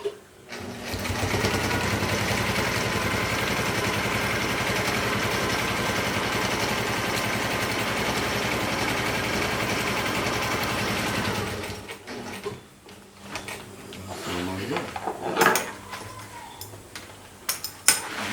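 A sewing machine zigzag-stitches a UV sacrificial strip onto a genoa sail with a loud, steady, continuous run of about eleven seconds, then stops, followed by scattered handling clicks and rustles.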